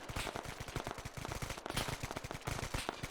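Rapid automatic gunfire from a firefight in Arma 3, a dense stream of sharp bursts in quick succession, loud and sustained with no pauses.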